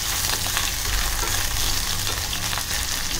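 Eggplant pieces frying and being stirred in a pan over medium to high heat, a steady close sizzle with scraping stir noises throughout, no talking.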